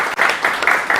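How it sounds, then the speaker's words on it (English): Dense applause from an audience at a postgraduate computer science research workshop, steady and loud throughout with a brief dip near the start, no voices over it. "So clap for the current era."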